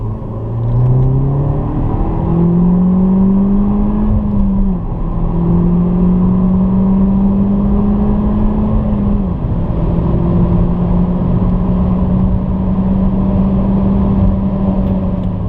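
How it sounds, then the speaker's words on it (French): A Peugeot 208 GTI engine pulls hard in second gear from 50 km/h. The loud in-car drone climbs steadily in pitch, with brief dips where the revs settle before rising again, and no talk over it. "Allez, test d'accélération en deuxième à 50."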